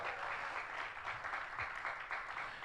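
A church congregation claps during a Sunday service, producing a steady, fairly faint wash of applause that holds evenly throughout.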